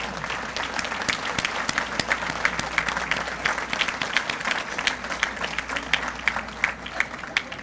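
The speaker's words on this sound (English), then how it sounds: "to stand for a round of applause" An indoor audience at an alumni association ceremony applauds its alumni committee with steady, dense clapping that holds at a constant level throughout.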